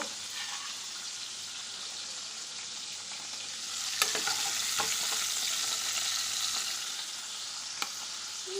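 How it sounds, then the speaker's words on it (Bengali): Potatoes fry with only salt in a kadai, the cauliflower just taken out of the same oil, giving a steady close sizzle throughout with a few sharp clinks of a spatula against the pan. "এখন ওই একই কড়ায় আলুগুলোকে শুধু লবণ দিয়ে ভেজে নেবো"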